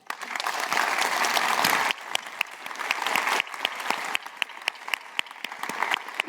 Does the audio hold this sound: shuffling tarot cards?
no